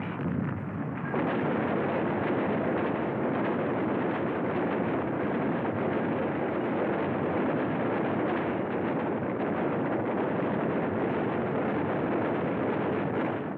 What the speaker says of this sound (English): Gunboats move in close to work over enemy beach installations.